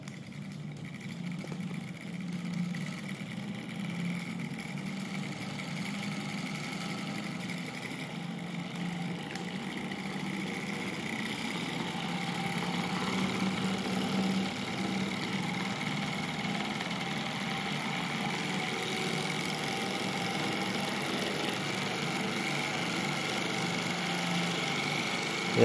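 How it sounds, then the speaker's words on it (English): A homemade BLDC motor controller drives a motor powered from 230 V AC, giving a steady, continuous electric hum and whir that stays even throughout with no talking. "The motor is going to start."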